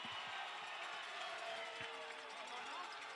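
A rugby crowd at a Warriors versus Ontario match roars back in response, a sustained broad wall of cheering with some clapping mixed in, heard from a distance under the general din.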